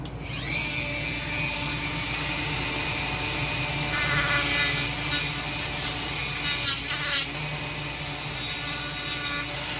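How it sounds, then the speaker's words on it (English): A small rotary cutting wheel saws through a plastic Revell 1986 Monte Carlo SS Pro Street model car body, giving a high, steady whine that turns harsh and gritty in loud bursts as it bites, close up. "So next is sawing this baby right here."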